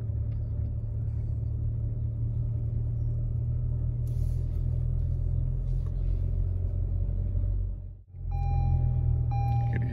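A car with a manual transmission rumbles steadily from inside the cabin as it gets a little gas during a slow right-hand turn, with a brief dip near the end before the low engine drone resumes.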